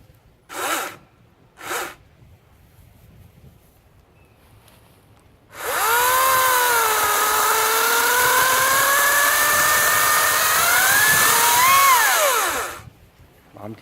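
A Ryobi 40V cordless chainsaw cuts through wood, starting with two short revving bursts, then running loud and steady for about seven seconds as the motor pitch dips and rises under load before cutting off.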